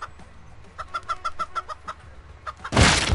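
A cartoonish chicken in the Turbo Dismount crash game clucks in a quick run of short, bright calls, then a loud burst of crashing noise cuts in at the end.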